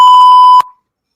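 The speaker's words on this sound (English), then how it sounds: "I have to censor you. Damn. The censor beep." A loud, steady censor beep, a pure single tone that holds for just over half a second, then cuts off abruptly with a brief faint tail and silence.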